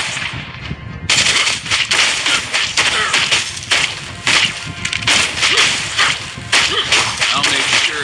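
Rapid bursts of gunfire crack out in loud, dense volleys with short gaps, like automatic weapons in a shooter video game, close and harsh throughout.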